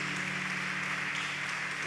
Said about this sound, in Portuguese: Aplaudam o nosso Deus, glória a Jesus.